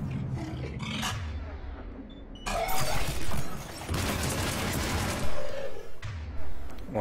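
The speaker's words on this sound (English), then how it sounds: "Actually causing fire explosions all over the place." Loud, chaotic bursts of explosions with crackling gunfire-like blasts in Mass Effect 3, several heavy booms rolling one after another amid game noise.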